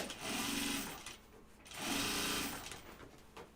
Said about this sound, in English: I'm going to top stitch the bottom seam